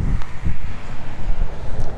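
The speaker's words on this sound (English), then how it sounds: "It's quite breezy." Gusty breeze buffets the microphone on open, flat fenland beside a drain, with low rumbling bursts rising and falling continuously and no voices.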